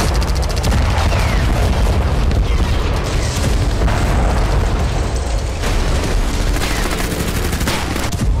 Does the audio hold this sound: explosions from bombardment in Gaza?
yes